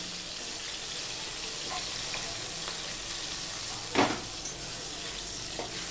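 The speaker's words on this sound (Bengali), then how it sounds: "এইভাবে সমস্ত মাছগুলো ভেজে ফিরে আসছি" Tilapia fish pieces fry in oil, a soft steady sizzle running throughout with a single sharper clatter midway and a couple of faint knocks, fairly quiet and without speech.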